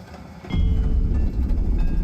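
A train in Ultrakill rumbles along its rails. After a quiet start, a heavy low roll surges in and holds loud and close, with faint rhythmic clatter.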